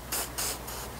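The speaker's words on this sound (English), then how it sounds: "spray with WD" WD-40 is sprayed onto disassembled release aid parts in a few short, close, hissing bursts, each lasting a fraction of a second, with no talking.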